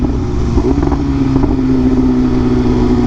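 A BMW M1000RR sport motorcycle engine runs close by with a steady, fairly loud droning note that rises and dips slightly as it is revved.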